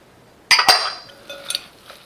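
A tomato, onion and carrot salad with cilantro and salt gets mixed in a bowl, with a couple of sharp close clinks followed by lighter tapping and scraping.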